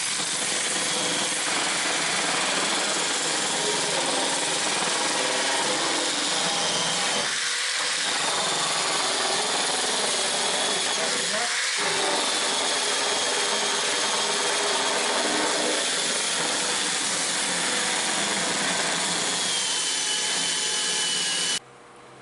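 A power drill whines continuously up close, boring through wood with a steady high-pitched buzz, briefly dipping twice before cutting off at the end.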